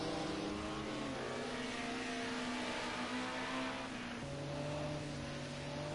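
A Ford Sierra Cosworth race car at Oschersleben circuit holds a steady engine drone with pitch shifting through gears, heard at moderate distance, mixed with other cars, no voices.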